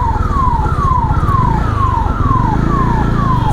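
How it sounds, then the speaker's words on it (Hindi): A loud ambulance siren on the road, close by, wailing in fast repeated downward sweeps over engine and traffic rumble. "आजकल तो लोग सभी बजाते रहते हैं एम्बुलेंस वाले सायरन"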